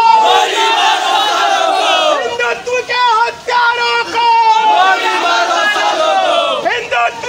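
A large crowd of Hindu organization activists protesting in Moradabad loudly chants slogans in unison, a dense, continuous roar of raised voices with brief dips between phrases.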